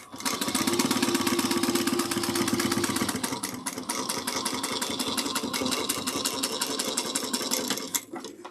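A sewing machine topstitches a bag, running in one steady, fast needle rhythm for several seconds at close range before slowing and stopping.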